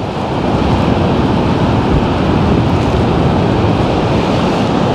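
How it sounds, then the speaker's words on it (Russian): Stormy Black Sea surf off the Anapa beach roars continuously, loud and close, with crashing waves and heavy wind buffeting the microphone throughout, no voices heard. "Так, опять на меня волна идет."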